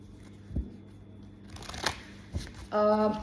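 Romance angel oracle cards are shuffled in a brief burst of quick riffling and flicking, with a short tonal sound near the end.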